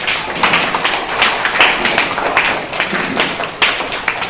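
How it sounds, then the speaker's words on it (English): Audience at a spelling bee contest applauds a contestant with a loud, dense burst of clapping that continues evenly throughout, close to the listener. "Clap for her."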